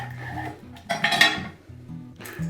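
A knife slicing down through the root end of an onion on a cutting board, with one brief crisp cut-and-knock near the middle over a soft tonal background.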